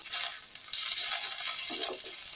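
Chopped tomato being tossed with softened onion in a pan, giving a steady, close-up hiss of sizzling with light stirring scrapes throughout.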